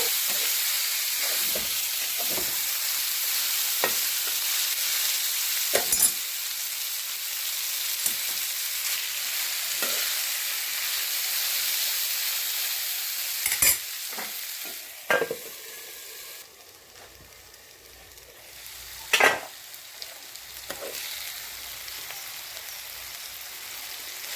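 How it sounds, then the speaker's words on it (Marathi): Green chillies and tamarind sizzle as they roast in a pan, a steady faint hiss broken by sharp crackles and pops and occasional stirring clinks, close by with no talk. "चिंचन मिरच्या जे आहेत ना चांगल्या भाजून घेतल्यात"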